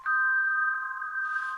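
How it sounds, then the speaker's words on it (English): A single glockenspiel note rings out and holds as a pure, steady metallic tone, washed in heavy reverb that keeps it sustained and slowly fading, with no voices. "This is a glockenspiel, but it has mad reverb behind it, as you can hear, right?"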